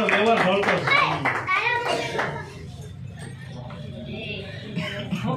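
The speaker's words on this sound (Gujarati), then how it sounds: "એકવાર જોરદાર તાળી થઈ જાય" Applause from a crowd at a children's roller skating medal and trophy ceremony in Palitana, a burst of clapping mixed with children's voices that settles into lighter scattered claps and chatter.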